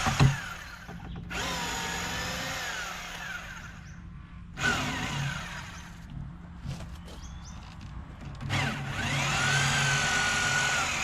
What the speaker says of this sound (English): get my drill out and start the removal process